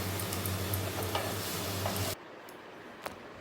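Garlic, ginger and chilli paste stirred in a hot pan, giving a loud, steady sizzle with a low hum that cuts off abruptly partway, leaving faint ticks.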